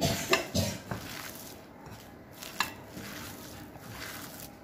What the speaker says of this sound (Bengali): মিক্সারটা আমি হাত দিয়ে করে নিচ্ছি